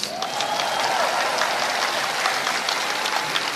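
An El Shaddai congregation at a large Saturday prayer gathering claps loudly in a dense, roaring wall of applause mixed with faint crowd voices, continuous and far-reaching throughout.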